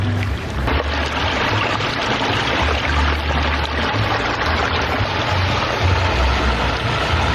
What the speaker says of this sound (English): Every waterfall with a unique sound.